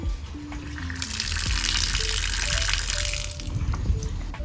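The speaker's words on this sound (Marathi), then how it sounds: "पाय पुसणी मी स्वच्छ धुवून घेते." A doormat washed under running water on a terrace, with a steady close gush of water splashing and spattering over the fabric, swelling louder in the middle before easing slightly.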